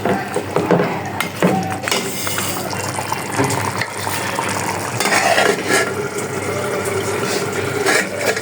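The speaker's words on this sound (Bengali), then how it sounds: "আমার ডালটা কষানো হয়ে গেছে," Mung dal and fish head stir-fried in a pan with green chillies, a spatula scraping and clattering steadily over a constant sizzle with occasional metallic knocks for the whole stretch.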